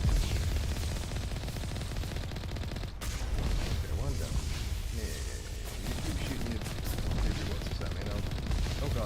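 Rapid bursts of weapon fire and blasts from a Mass Effect: Legendary Edition firefight, with UV rockets being launched, roar continuously and loudly over a dense low rumble while someone talks through the barrage.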